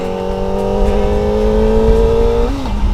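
A Kawasaki ZX25R motorcycle engine drones loudly up close, holding a steady throaty rev before dropping off near the end.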